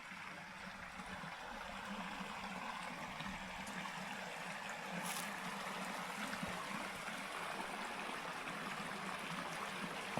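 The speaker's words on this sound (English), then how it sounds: "I see a little creek or stream" A small mountain creek carries snowmelt off the slopes in Utah, a steady, even rush and trickle of water heard from nearby, continuous with no voices over it.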